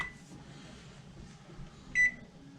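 A kitchen timer being set, giving one short bright electronic beep near the end after faint rustling in a quiet kitchen.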